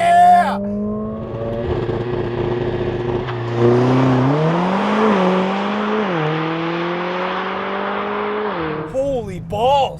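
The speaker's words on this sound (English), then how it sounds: "The last amazing AMG CLA45. S with race start." A 2025 Mercedes-AMG CLA 45 S with a turbocharged 2-litre engine launches hard from a race start, its engine note climbing steadily and loudly through the gears for several seconds, with a voice briefly at the end.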